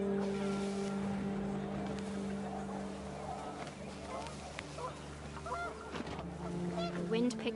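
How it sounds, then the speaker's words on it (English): Geese honk in panic as they sweep past on rising wind in the video game What Remains of Edith Finch, brief calls scattered over a steady background drone and music. "panicked geese appeared and quickly went"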